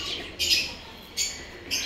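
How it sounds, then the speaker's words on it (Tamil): An Indian fantail pigeon in a bird park gives three short, harsh calls evenly spaced over two seconds, fairly close and clear above a low background hum. "Indian fantail."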